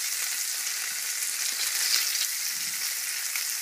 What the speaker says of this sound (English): Alright, so I hear a nice sizzle and that's what I want.